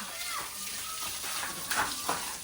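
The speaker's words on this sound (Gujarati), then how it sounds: "સુરભી ને ટાઢા પાણી નવરાણ છે" Cold water is splashed over a cow named Surabhi being bathed in a village cow shed: a continuous wash of water with a couple of louder pours near the end, and faint voices in the background.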